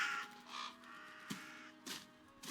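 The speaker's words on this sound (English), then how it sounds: "See those birds? Shifty looking things, beady eyes like berries." Crows caw in a video game village, several harsh calls rising and fading over a soft steady ambient bed, fairly quiet and with no voices.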